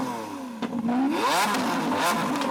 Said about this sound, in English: revving it while it's still standing